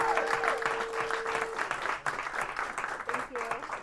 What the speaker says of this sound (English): Round of applause for Mrs. Ward.